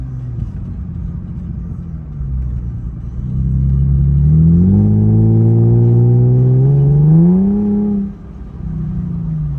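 A Mercedes SLK 350 V6 with a modified exhaust idles loudly nearby, then revs up in one long rising, droning pull before dropping back to a deep, steady idle.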